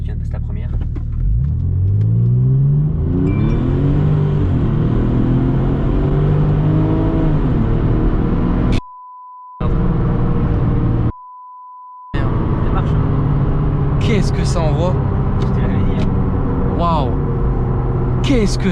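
A tuned 9FF Porsche 996 Turbo pulling hard after a shift into first, its engine note climbing and surging loudly inside the cabin, with people talking over it and two bleep-like tones breaking in partway.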